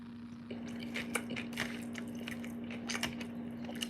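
Close, quiet biting and chewing of a juicy burger, wet squishy crunches repeating irregularly over a steady low hum, with no talking.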